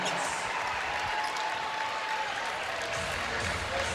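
A crowd at a college basketball game between UConn and Georgetown applauds during a timeout, a steady, fairly distant roar of clapping and crowd noise with faint voices mixed in.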